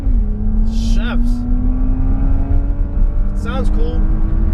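Loud, close engine drone from a Porsche Cayenne S accelerating hard in Sport Plus mode, its pitch rising slowly and steadily, with someone speaking briefly over it from inside the cabin.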